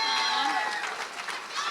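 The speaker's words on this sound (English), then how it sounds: "So please give another round of applause for an amazing young lady" An audience claps for the newly crowned Fall Festival pageant queen, a broad, continuous patter of many hands with faint crowd murmur and a voice over it.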